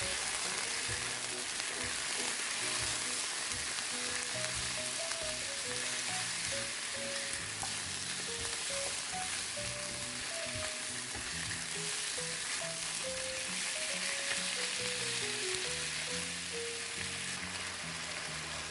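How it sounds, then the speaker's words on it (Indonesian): Chicken pieces sizzle steadily in a hot pan with bay leaves as they are stirred, a continuous close frying hiss with faint scraping of the spatula, no voices. "Lanjut kita masukkan ayamnya, aduk rata dan masak sampai ayam berubah warna."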